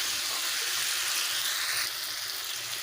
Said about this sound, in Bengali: সবজিগুলো ভালোভাবে কষে নেব সবজি যত কষবেন তত টেস্ট আসবে